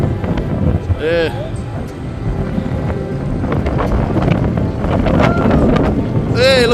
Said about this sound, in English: Bloody windy down here too.